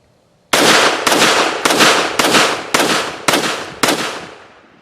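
Seven sharp, loud pistol shots from a Walther WMP 22 Magnum, fired one at a time at an even pace outdoors, each crack trailing off in a short echo before the next.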